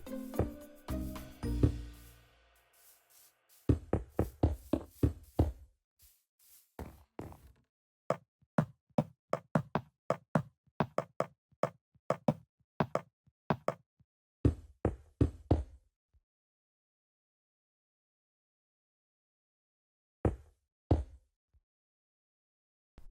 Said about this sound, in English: Then we can fill in the sides with quartz blocks.